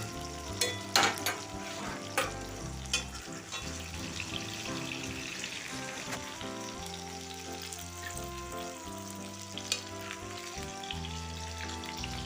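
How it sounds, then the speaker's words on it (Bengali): Sliced onions fry in hot oil in a pan while cooking chicken curry, giving a soft, steady sizzle with scattered crackles and occasional clinks, no talking. "পেঁয়াজগুলো ভাজা হয়ে গেছে, এরপর পেঁয়াজগুলো তুলে নেব।"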